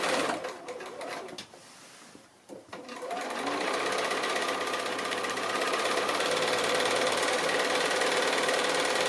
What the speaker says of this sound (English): So stitching right on that line